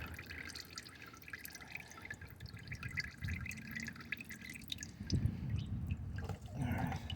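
Engine oil drains from the loosened oil filter of a 2010 Honda CR-V, a faint, steady trickle and drip running quietly and close throughout, with no talk.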